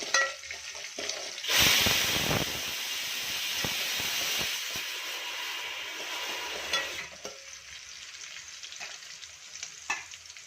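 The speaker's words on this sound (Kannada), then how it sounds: "ನೋಡಿ, ಇವಾಗ ಎಣ್ಣೆಯಲ್ಲಿ ಚೆನ್ನಾಗಿ ಫ್ರೈ ಆಗಬೇಕು." Green chili frying in hot oil for ridge gourd dal, a loud burst of sizzling and spattering as it hits the pan, settling into a steady close hiss with a few stirring clicks.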